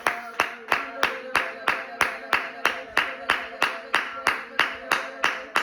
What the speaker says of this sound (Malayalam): ആത്മാവിൽ കൈയടിച്ച് ആരാധിക്കുക